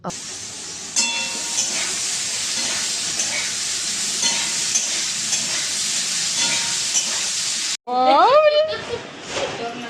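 Potato bhujia fries in mustard oil in a cooking pan with a loud, steady sizzling hiss; it cuts off near the end as a voice speaks.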